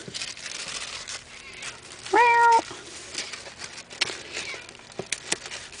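A hungry cat gives a single loud, brief meow over faint paper crinkling and rustling nearby.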